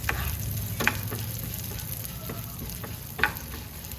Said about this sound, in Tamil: அடுப்பு சிம்மில் வச்சுட்டு பருப்பை நல்லா வறுத்து விட்டுக்கோங்க